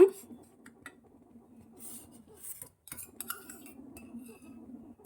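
Semolina (rava) being roasted in ghee and stirred with a metal spoon, heard as close, irregular clinks and scrapes against the pan with quiet pauses between strokes.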